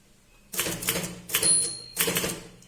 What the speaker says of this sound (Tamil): டெலிபோன் முடிஞ்சோன்னு ஒரு கோலன் போட்டு ஒரு ஸ்பேஸ் விட்டுட்டு டெலிபோன் நம்பரை டைப் பண்ணணும்